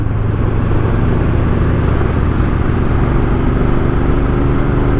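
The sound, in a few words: Royal Enfield Interceptor 650 motorcycle accelerating up a climb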